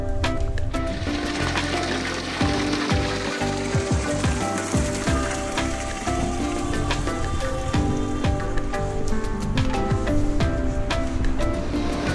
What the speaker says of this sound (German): Die kommt direkt aus dem Berg raus und fließt da hier auch wieder in den See rein.